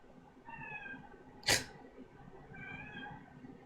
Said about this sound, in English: my cat's just meowing